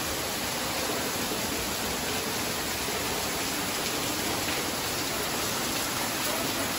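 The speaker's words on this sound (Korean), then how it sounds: "폭포 뒤에서 이렇게 폭포를 보니까 엄청나게 비가 올 때 창문에서 밖을 내다보는 그런 기분이 드네요" A waterfall at Watkins Glen State Park, heard from behind the falling water, makes a steady, dense roar of rushing water. The sound is loud and continuous, like heavy rain, and fills the whole stretch with no break.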